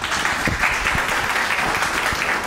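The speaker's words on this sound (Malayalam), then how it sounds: "ശരിക്ക് കൈയടിക്കാം." An audience at a charismatic prayer meeting in Fujairah applauds with dense, steady clapping that fills the whole stretch at an even level, with no voices over it.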